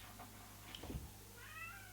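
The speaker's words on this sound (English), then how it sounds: "That's the cat wanting to get in." A cat meows to be let in indoors, one short faint meow followed by a longer drawn-out cry, quiet and somewhat distant.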